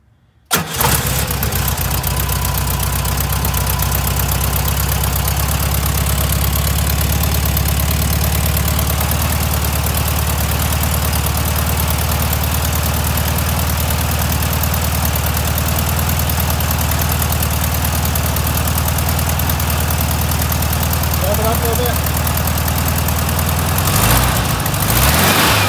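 A VW Thing engine converted to electric ignition cranks, catches and then runs with a loud, steady rumbling idle close up for over twenty seconds, with no talk.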